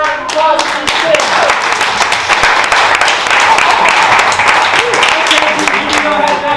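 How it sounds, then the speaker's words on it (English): Audience at a children's theatre comedy class showcase applauding, with dense, steady clapping throughout and a few voices mixed in. "big round of applause for these kids."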